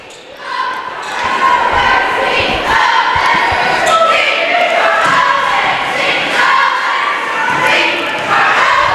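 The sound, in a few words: crowd noise at a high school basketball game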